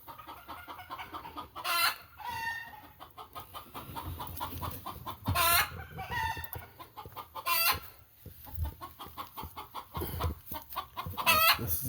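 Backyard hens cackle and cluck loudly after laying an egg, with repeated sharp squawking bursts and a rooster-like crowing call, close and continuous.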